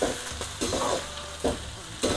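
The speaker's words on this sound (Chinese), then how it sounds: "把这个青麻椒粒儿、干辣椒、小茴香，哎，还有白芷一起下锅啊，炒出麻辣味儿" Green Sichuan peppercorns, dried chilies, fennel seed and angelica root stir-fried in a hot pan for a lamb neck hotpot, with a steady sizzle broken by several sharp scraping stirs of the spatula.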